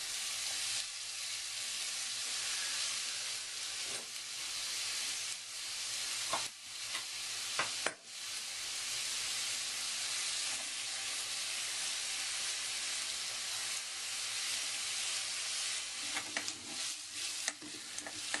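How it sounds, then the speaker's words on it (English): Chopped onions fry in a pan for a mushroom risotto, giving a steady, close sizzle with soft stirring scrapes and occasional louder spits over the continuous hiss. "I'm just going to fry those up for 3 or 4 minutes, just to soften up"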